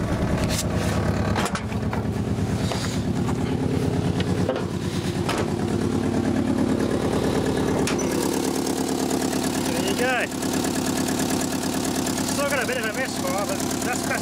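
An old Toyota Corolla's engine idles close by with an uneven, stumbling misfire, irregular knocks and sputters breaking through the continuous running sound.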